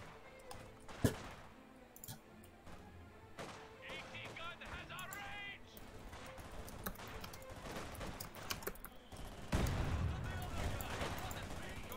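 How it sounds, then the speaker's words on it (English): Heavy mortar and other gunfire during a video game tournament match: scattered booms and sharp shots, with a louder blast partway through, under ongoing commentator chatter and faint keyboard clicks. "Heavy mortar gets a kill."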